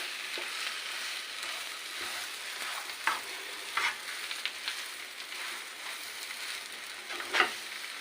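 Samosa filling of potatoes and spices stirred in oil in a frying pan, a soft continuous sizzle broken by intermittent scraping spatula strokes and a few sharper clinks.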